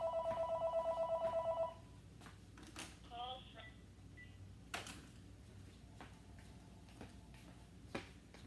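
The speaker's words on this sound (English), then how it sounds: "We're gonna listen to the phone ring." A telephone rings in a few repeated electronic bursts at the start, then stops, leaving a quieter room with faint clicks and movement.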